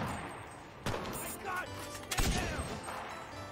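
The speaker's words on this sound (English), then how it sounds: "that's our partner shooting at him" Gunfire from a teammate in the battle royale game Cuisine Royale, a few sharp bursts at mid distance over ongoing game ambience, with voices talking in between.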